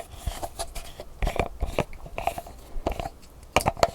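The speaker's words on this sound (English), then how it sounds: "I wish, for the sake of ASMR videos, these lids would just keep turning and turning and turning." Plastic jar lid with a turquoise hard-plastic outer shell and softer inner portion being twisted, giving a series of close, crisp crackling and grinding bursts in irregular bunches with short pauses between them.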